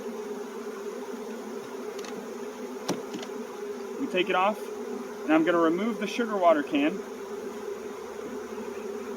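A steady, close buzzing of honeybees from a package being installed into an opened hive hums throughout, while a person talks over it in bursts.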